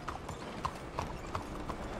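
Horse hooves clip-clop in a steady, even walking rhythm, several crisp hoof strikes spaced about a third of a second apart, fairly faint against a low background rumble.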